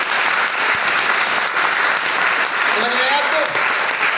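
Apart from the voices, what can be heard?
audience applause at a meeting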